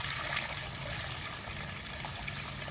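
Collected rainwater trickles steadily out of a rain-catchment system, a continuous soft running-water sound with no talking.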